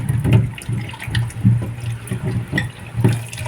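A jicama is washed under running water, its skin scrubbed free of dirt. A steady close-up splash and trickle comes with low rhythmic sloshing bursts as the root is rubbed under the tap.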